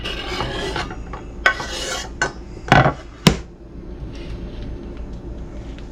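A knife slicing cooked beef across the grain on a board, with a few separate scraping strokes and sharp knocks against the cutting surface, close and alone.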